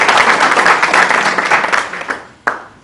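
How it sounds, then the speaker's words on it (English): Applause from the audience at a chamber of commerce business milestone awards ceremony: sustained loud clapping that thins out toward the end, with a few last isolated claps. "let's give her a round of applause"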